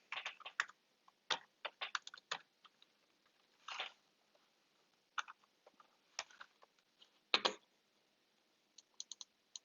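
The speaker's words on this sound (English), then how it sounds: "I'm typing that into the calculator." Quiet, close key presses come in uneven bursts, small plastic clicks of calculator buttons being tapped with pauses in between and no voices.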